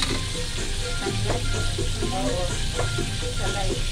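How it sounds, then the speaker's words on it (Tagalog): Garlic, onion and ginger sautéing in a pan, a loud continuous sizzle with stirring strokes running under it, close and steady. "Ginisa sa bawang, sibuyas, tapos loya"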